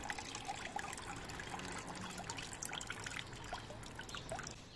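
Water trickles steadily into a potted succulent, a soft continuous pouring and dribbling close by with no voices over it.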